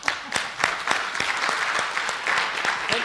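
Audience applause for a panelist at a live symposium, a steady wash of many hands clapping with sharp individual claps standing out, fairly close and sustained throughout.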